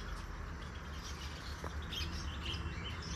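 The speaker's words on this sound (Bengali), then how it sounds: "ও, আমাদেরকে ওয়েলকাম জানাতে এসছে পাখিগুলো মনে হচ্ছে।" Small birds chirp and tweet at a bird sanctuary in Raiganj, quiet scattered calls at some distance over a soft outdoor hush.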